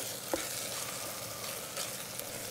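Tomatoes and tomato paste stirred together in an Instant Pot make a continuous close sizzle, with a brief scrape of the spoon near the start.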